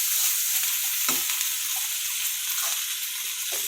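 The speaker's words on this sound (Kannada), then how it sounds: "ಓಕೆ, ಸ್ವಲ್ಪ ಫ್ರೈ ಆಗಲಿ." Paneer dish ingredients frying in a pan with a bright continuous hiss and sizzle, close and steady, with a few brief spoon scrapes against the pan and no talk.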